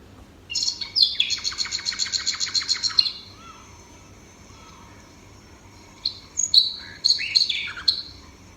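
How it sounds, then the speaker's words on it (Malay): Recorded songbirds playing back: a quick run of bright repeated chirps for a few seconds, a pause, then another cluster of sharp tweets and calls, clear and close. "Burung. Haiwan kedua ialah burung."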